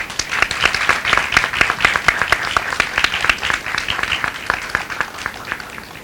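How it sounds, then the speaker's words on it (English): Audience applause at an event honouring actress Smita Patil, a moderate burst of many hands clapping in an irregular patter, steady and then slowly thinning out, with no talking. "Can we please have a big round of applause?"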